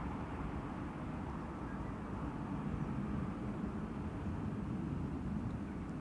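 A Martinair Cargo aircraft flies past at Schiphol airport with a steady, broad, low-pitched rumble that holds a constant level throughout. It sounds fairly distant and muffled, with no voices over it.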